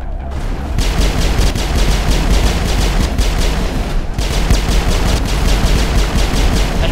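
Rapid automatic weapon fire from a rapid-fire ability in the video game Mass Effect, loud dense bursts of shots repeating steadily with brief gaps, alone without talk.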